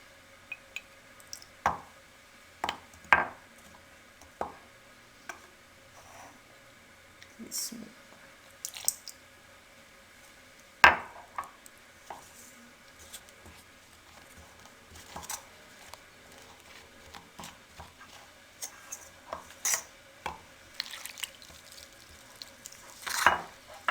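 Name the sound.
mixing corn flour with lukewarm water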